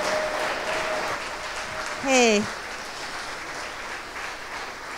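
A conference audience at the Decentralized Web Summit 2018 applauds in a steady wash of clapping. A voice briefly calls out partway through.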